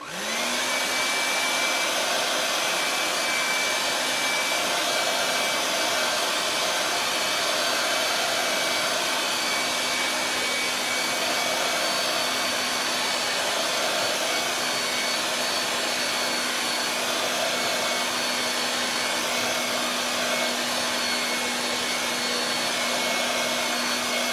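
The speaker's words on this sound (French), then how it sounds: "je vais lui donner un petit coup de séchoir" A hair dryer blows continuously to dry paint on a canvas, a loud, steady whooshing roar with a constant motor whine lasting throughout without pause.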